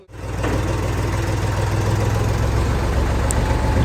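A steady, loud engine of a 29-year-old tractor idles and rumbles low and close, running evenly throughout with no voices.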